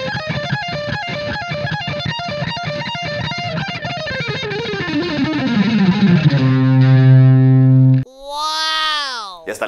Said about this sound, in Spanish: Voy a activar la distorsión.